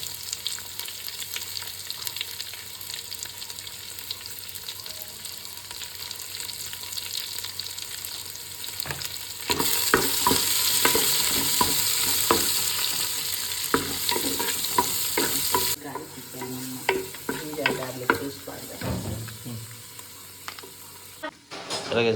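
Chopped onions fry in a pan for Mangalore-style crab sukka, sizzling steadily while a spoon scrapes and stirs them in bursts, the hiss swelling louder midway before easing off. No one speaks.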